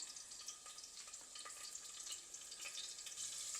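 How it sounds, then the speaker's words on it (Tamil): Mustard and fenugreek seeds spluttering in hot oil in a clay pot, a faint, steady crackling sizzle with scattered small pops and no talking. "இதில் நான் கடுகு வெந்தயம் போட்டு தாளிச்சிட்டு"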